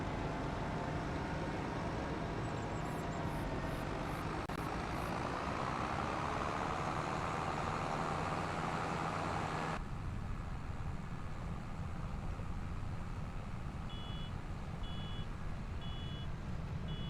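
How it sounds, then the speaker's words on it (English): A John Deere tractor in Farming Simulator 25 idles with a low engine drone while a handbrake warning beeps in short, evenly spaced repeating tones, faint against the engine. "sounds like the handbrake warning's going off on the John Deere"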